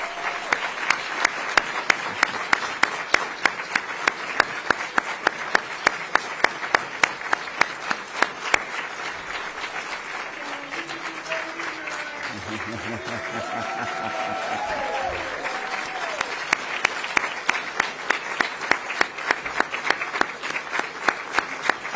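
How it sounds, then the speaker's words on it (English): A seated audience at a pardon ceremony gives sustained, steady applause for the recipients, dense rhythmic clapping that carries on throughout, with some faint murmuring in the middle. "And we'll give you an applause"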